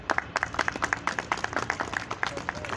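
Warm audience applause at an evening mushaira poetry gathering held in a restaurant in Wazirabad, as a poet is welcomed to the stage; dense, steady clapping from a mid-sized crowd lasting a few seconds.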